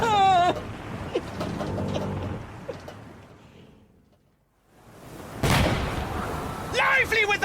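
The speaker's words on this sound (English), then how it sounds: "How can a man sew a neat flap with all this jarring bloody gunfire?" Cannon fire aboard a sailing warship in an audio drama, with heavy booming bursts and a sharp blast near the end, mixed under tense dialogue and shouted voices that fade briefly before the gunfire resumes.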